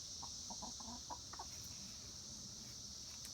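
Backyard chickens clucking in short, soft, repeated calls over a steady background hiss, fairly faint and distant-sounding.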